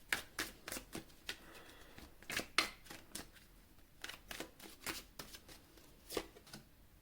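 Tarot cards being shuffled and drawn, a rapid series of crisp, close card slaps and riffles with irregular rhythm, quiet and alone with no speech.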